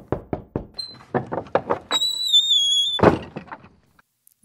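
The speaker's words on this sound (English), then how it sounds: "And then a gentle knock on the door." A series of soft, quick knocks on a door with short gaps between them, followed by a high whistling squeak and then a brief thump.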